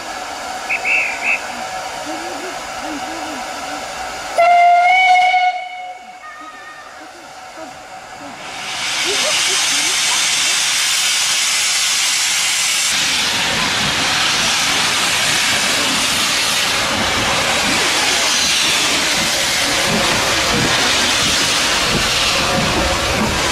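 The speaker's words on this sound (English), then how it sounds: "you'll hear a whistle from the loco, and away you go" A steam locomotive whistle sounds briefly at Minehead on the West Somerset Railway, then after a short lull a loud, sustained hiss of steam and rumble builds as the engine gets underway.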